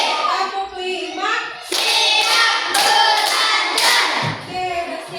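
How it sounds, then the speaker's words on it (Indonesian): Schoolchildren in a classroom clap their hands together in loud, counted bursts, each set of claps crisp and close, with children's voices calling out between them. "Kita tepuk 1 sampai 5."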